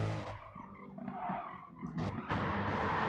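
A race car slides sideways at Brands Hatch in sim racing, its tyres squealing and scrubbing for a couple of seconds while engine noise rises and falls around it.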